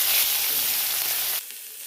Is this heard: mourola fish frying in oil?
yes